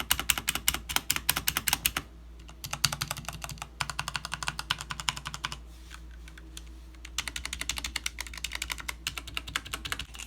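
Space bar on a foam-modded Redragon S113 gaming keyboard pressed repeatedly, rapid close thocking taps in several quick runs separated by short gaps, with no voices.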